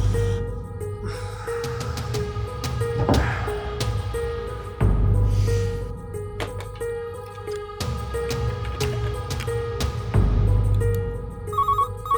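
A telephone rings repeatedly with an incoming call, its electronic ringtone repeating in a steady pattern with a few louder pulses, heard alone with no talk.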